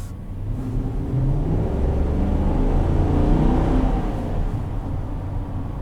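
A 2020 GMC Sierra 2500 HD with the 6.6-litre engine accelerates, a deep rising rumble and whir that swells then eases off, heard from inside the cab with no talking.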